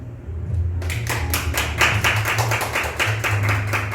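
After a brief quiet start, an audience breaks into steady, lively clapping, many hands together at close range, continuing to the end.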